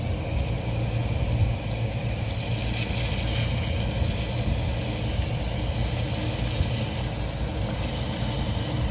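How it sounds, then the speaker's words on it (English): Cold water flows from a tap into a Solis 59P water tank in a steady, even gush, with a low pump hum running underneath and no talking. "So now we'll turn on cold water here."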